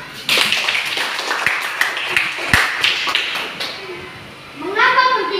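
A classroom of children applauds with a burst of quick, scattered claps and taps, close by and mixed with children's voices, easing off near the end as a voice speaks.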